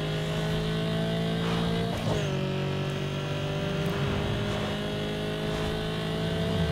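Steady, loud engine drone of a car in Need for Speed Underground 2 held at full speed, with a continuous high whine and a brief pitch dip near the two-second mark as it keeps pulling, heard alone without talk.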